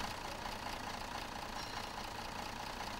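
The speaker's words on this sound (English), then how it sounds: "Start the engine and allow it to idle for 3 to 4 minutes whilst checking for oil" A car engine idles steadily after a newly fitted turbocharger, making a faint, even hum that stays constant with no revving.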